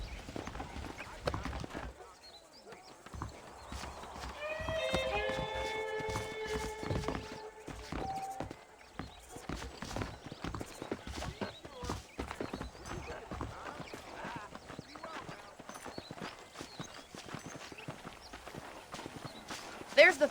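Horse hooves clip-clop steadily in Red Dead Redemption as a ridden horse walks along, close and rhythmic, with a brief whinny and speech heard over the footfalls.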